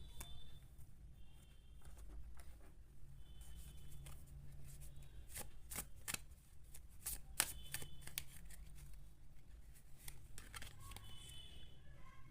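Tarot cards being shuffled in repeated riffling bursts, close and steady, with soft rustles between, no talk.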